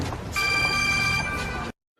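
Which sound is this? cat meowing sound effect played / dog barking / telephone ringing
telephone ringing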